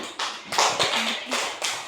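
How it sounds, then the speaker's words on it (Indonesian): A classroom applauding group 1, a short burst of scattered hand clapping and tapping from several pupils, moderately close, with a voice talking over it. "kita memberikan tepuk tangan untuk kelompok 1"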